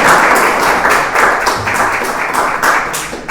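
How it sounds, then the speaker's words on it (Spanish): An audience at the Museo Figari applauds as speakers are welcomed to the panel table. Loud, close clapping that surges in a regular pulsing rhythm for a few seconds and eases slightly toward the end. "Los invitamos a la mesa con un aplauso."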